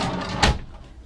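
A dovetailed real-wood drawer on hardwood guides in a 1999 Beaver Patriot Class A motorhome slides and bumps shut once, a brief close wooden knock with a soft rumble.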